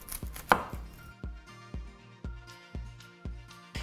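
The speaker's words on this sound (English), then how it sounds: "We're gonna cut these broccoli heads into 8 cups of florets." A knife cuts broccoli heads into florets on a cutting board with crisp, evenly spaced chopping thuds, about two to three per second, close by and with no voices.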